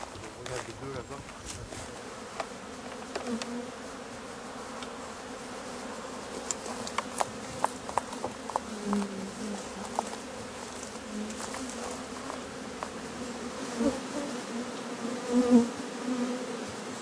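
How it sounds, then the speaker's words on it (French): Honeybees buzz around a beehive, a dense close drone of many wings with individual bees zipping past the microphone now and then, and faint speech in places. "Alors elles sont pas belles les abeilles?"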